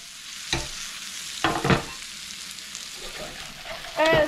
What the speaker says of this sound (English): So I'm just trying to make sure I'm clearing the bottom of my pan so those potatoes have surface